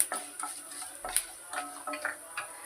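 Mustard seeds splutter in hot oil, giving a faint, quiet series of small sharp pops and ticks scattered irregularly over a low background hiss.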